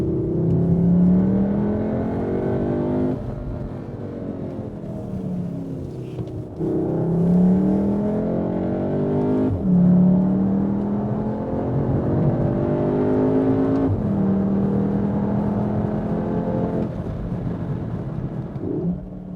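Cupra Formentor VZ SUV with its 310 hp engine, heard from inside the cabin: a loud, steady engine drone that rises in pitch through repeated revving pulls, each climb broken by a short dip at the gear change.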